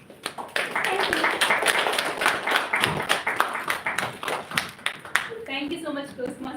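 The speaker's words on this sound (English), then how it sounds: "Because you must clap." An audience at a Toastmasters club meeting claps in a brisk burst of scattered, close hand claps, which fades as a voice begins speaking near the end.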